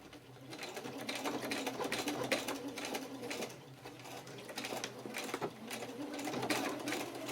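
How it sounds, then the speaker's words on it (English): A sewing machine runs steadily nearby, its rapid mechanical stitching whirring continuously with slight changes in pace and no talking. "You need your Hardy sewing machine to do that."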